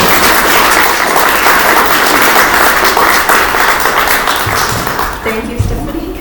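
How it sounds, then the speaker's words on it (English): An audience at a lecture event applauds loudly after a speaker's introduction, a thick wash of many hands clapping that fades slightly toward the end as a few sounds and murmurs emerge. "please give Lindsey a round of applause."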